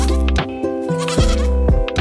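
A milk-giving goat bleats loudly and continuously in a string of wavering, nasal calls, used as a story sound effect, with no talking.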